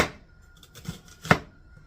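Peppers are sliced on a cutting board, a few quiet knife chops with two more distinct knocks near the end, close and otherwise quiet.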